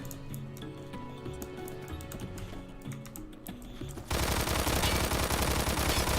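A no-recoil gun setup in the video game Phantom Forces: soft keyboard and mouse clicks first, then a loud, dense burst of rapid automatic gunfire that keeps going to the end.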